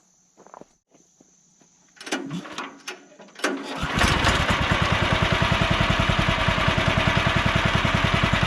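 Woodland Mills sawmill engine on hard maple: a few quiet clicks and clunks, then the engine fires up and runs loud and steady with a fast, even chugging pulse that continues to the end.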